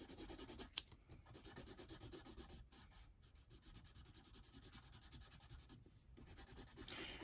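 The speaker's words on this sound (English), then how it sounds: "we're going to come to the very last one and fill it in as black as we can make it with our" A graphite pencil scratches and rubs steadily, close up, shading the last square of a value scale as dark as possible in continuous back-and-forth strokes with a few short pauses.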